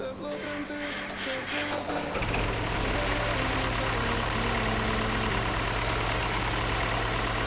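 A Niva SK-5 combine harvester engine starting in Farming Simulator 19: a low idle gives way to a loud, steady heavy-engine roar after about two seconds, with a voice talking over the start.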